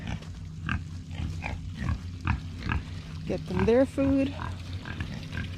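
Pigs on a small homestead grunting and oinking at feeding time, close by and mixed with steady talking over the top, with a brief squeal toward the end.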